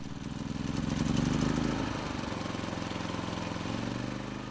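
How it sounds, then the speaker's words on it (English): A natural-gas converted inverter generator engine idles close by, its uneven chugging settling after a couple of seconds into a steadier, smoother running rhythm. "As I set the screw to just the right spot, you'll hear that engine just smooth out perfectly."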